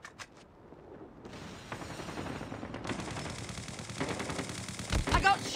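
Rapid machine-gun bursts and gunshots in the video game Call of Duty, growing louder and denser toward the end, with sharp heavy blasts near the close.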